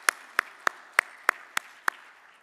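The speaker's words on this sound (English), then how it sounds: "Yeah, let's give them a round of applause." Seven evenly spaced, crisp hand claps about a third of a second apart, sparse and fairly close, at the opening session of a capital conference; it sounds like a single person clapping rather than a full crowd.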